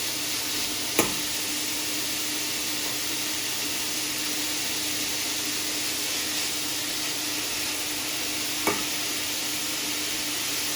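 Ground beef frying in a pan for hachis parmentier, a continuous even sizzle held close and steady throughout, with a couple of faint clicks and no talking.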